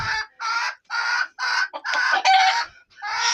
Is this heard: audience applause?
no